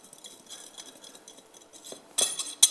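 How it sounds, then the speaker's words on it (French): Sifted icing sugar and flour being mixed in a bowl for a Joconde sponge: soft scraping at first, then a few sharp metallic clinks of the utensil against the bowl near the end, close by and without speech. "On va mélanger cette préparation pour en faire quelque chose d'homogène."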